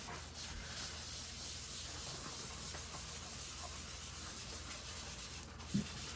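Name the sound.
wiping excess oil off a cutting board with a paper towel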